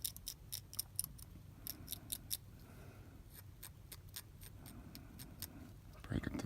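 Edge of gaffer tape being roughed up and frayed on a fishing-line finish, a run of sharp, quiet crackling clicks in uneven bursts, with a low murmuring voice underneath.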